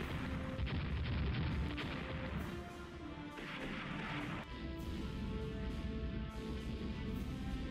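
Heavy 12-inch naval guns thunder during a battleship engagement in Rule The Waves, a dense, continuous rumble of overlapping booms and distant blasts with no voices.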